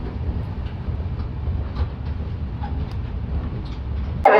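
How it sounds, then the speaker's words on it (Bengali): The Kolkata-Radhikapur Express rolls into Ambika Kalna station at night with a steady low rumble and faint clatter, ending in a sudden sharp burst. "নির্ধারিত সময় থেকে প্রায় কুড়ি মিনিট দেরিতে ট্রেন এসে পৌঁছালো অম্বিকা কান্না স্টেশন"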